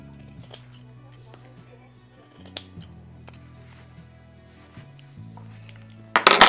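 Scissors cutting through felt for a Christmas decoration, a few crisp, faint snips and clicks against a quiet background, with a louder rustle of handling at the end.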